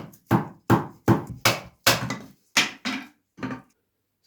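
Thick log split in half with an axe for the bottom course of a small off-grid cabin: eight loud, close wooden chops in a steady rhythm, each a sharp crack that fades quickly, with a brief pause before the last two strikes.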